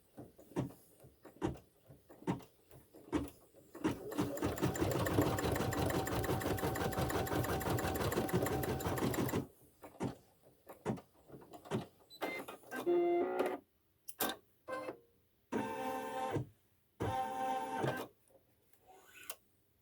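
An embroidery sewing machine stitches a satin stitch on a Santa's Workshop quilt block, running as a rapid, steady mechanical whir for several seconds, then stopping and restarting in short bursts with pauses between.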